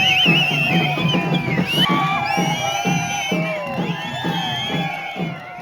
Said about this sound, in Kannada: ಉತ್ಸವ ಮೂರ್ತಿ ಗುಡಿ ಹತ್ತಿರ ಬರುತ್ತಿದ್ದಂತೆ ಶಿಳ್ಳೆ ಜೈಕಾರಗಳು ಮುಗಿಲು